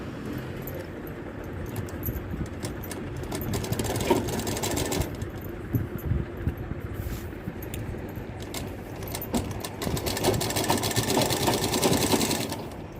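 Sewing machine stitching a silk saree, a steady whirring run of needle strokes with a brief slowdown near the middle, then picking up again, close and alone without talk.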